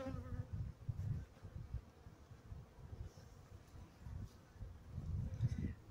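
Honey bees drone steadily at an open hive during a midday inspection, a low dense buzz that swells and fades in waves, close by and with no talk.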